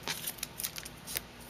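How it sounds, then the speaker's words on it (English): Sharp scissors cut a pop dot sandwiched under a shiny piece of paper, giving three or four crisp, close snips spread over a quiet moment with no talk. "And just take sharp scissors and cut it in half."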